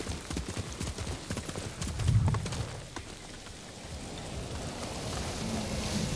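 Horse hooves clip-clopping at a steady trot in Ghost of Tsushima on PS5, close and rhythmic, with a brief whinny and rain pattering in the background.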